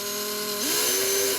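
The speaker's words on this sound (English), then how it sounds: "so all I'm going to do is just try and drill out" A small power drill whirs while drilling out a tiny screw on a Star Trek Enterprise D model kit, a steady close hum that drops and shifts pitch partway through as the bit bites.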